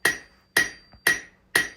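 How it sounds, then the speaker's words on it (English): Four evenly spaced, ringing hammer blows drive a rivet on a forged, scrolled sign bracket, each a sharp, close metallic strike with a brief decaying ring. "I'll take this hammer to it, and then I'll take my little ball peen, and that'll finish out the rivet"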